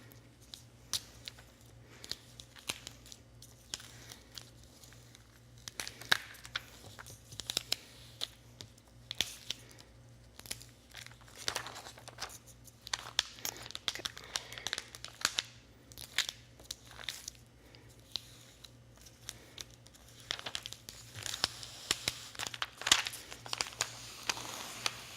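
Cut vinyl pieces being peeled and picked out from a custom shirt design, a steady series of faint, close crinkling and crackling ticks with small scratchy bursts, no talking, over a low constant hum.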